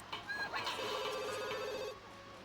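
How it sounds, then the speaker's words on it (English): A telephone rings in the video game The Sims 2, a rapid trilling electronic bell burst lasting about a second over soft background game music and effects, no voices. "It's like the phone's ringing."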